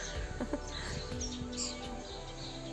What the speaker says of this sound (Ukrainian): шпаки літають.